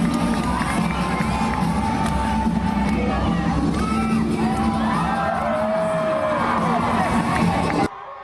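Loud, dense roar of screaming fans and shouting children at a Midnight Madness college basketball event, a continuous crowd din with whoops and bursts throughout, cutting off abruptly near the end.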